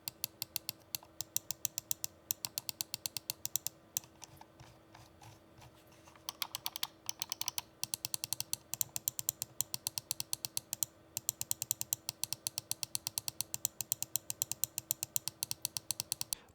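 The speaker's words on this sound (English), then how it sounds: "and clicks feel firm and responsive." Redragon M711 Cobra gaming mouse buttons with Omron switches clicking close up, a rapid, steady run of sharp, crisp clicks with a brief pause near the middle, heard alone with no talking.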